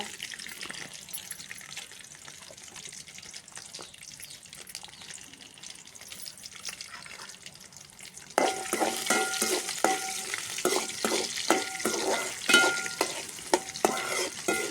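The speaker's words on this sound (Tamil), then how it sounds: "கடுகு நல்லா பொரியட்டும் இந்த டைமில் பூண்டு போட்டுக்கோங்க" Mustard seeds and garlic in hot oil for a Trichy-style tomato pickle make a soft crackle at first, then a louder, dense sizzle and popping once the garlic goes in. The frying stays close and steady with no talking.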